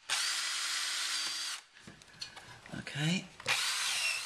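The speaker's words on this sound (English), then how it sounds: "So what I've got here is just one of these 30mm drills, and we're going to mount the unit on this." A power drill with a 30mm bit bores a mounting hole for an underbody light on a Land Rover Discovery 3. It gives a loud, close whine that stops for a moment of handling noise and a brief spoken word, then starts again.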